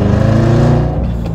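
Corvette Z06 engine at full throttle as the driver floors it, a loud, steady, deep roar with strong harmonic drone that eases slightly near the end, heard up close from inside the car.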